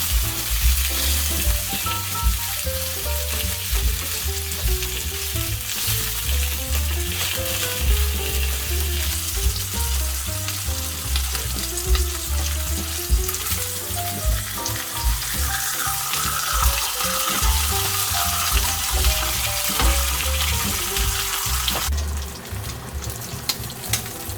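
Pork belly grills in a pan with herb sauce, giving a loud, steady, close sizzle and crackle that runs without a break from start to finish.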